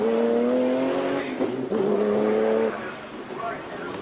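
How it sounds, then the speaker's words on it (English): A Jaguar GT race car, likely the XJ220, drives at Donington Park in a 1995 BPR Global GT Series race, its engine a steady loud whine that fades as it passes, under a commentator's talk. "There's another Jaguar here, the PC Automotive XJ220 of Tony Brooks"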